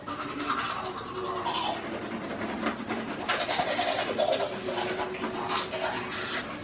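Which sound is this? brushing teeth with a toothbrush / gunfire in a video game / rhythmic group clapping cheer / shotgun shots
brushing teeth with a toothbrush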